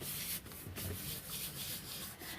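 A sheet of card rubbed by hand onto an inked gel printing plate, giving a steady, close, soft scratchy friction sound that continues without pause.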